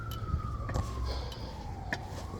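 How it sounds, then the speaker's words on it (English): A siren wails at a distance outside a New York apartment building, its tone sliding slowly downward, over steady background noise with a few brief knocks. "You guys hear the sirens?"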